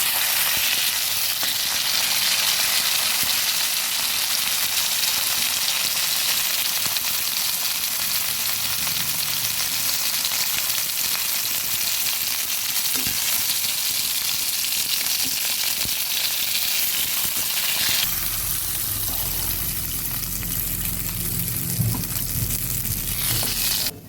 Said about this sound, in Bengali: সবগুলো মাছ ভেজে তুলে নিলাম